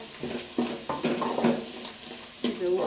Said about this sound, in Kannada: ಇದು ಉಪ್ಪು ಹಾಕಿ ಚೆನ್ನಾಗಿ ಫ್ರೈ ಮಾಡ್ಕೊಳ್ಳೋಣ.